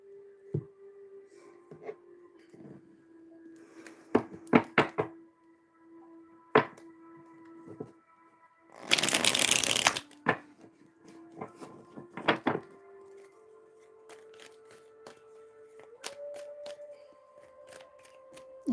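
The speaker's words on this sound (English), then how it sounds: "Let me go ahead and pull like the cards out here." Tarot cards pulled from a deck and handled on a table during a live reading, with scattered soft taps and flicks, one loud riffling shuffle in the middle, then more light clicks over a faint steady hum.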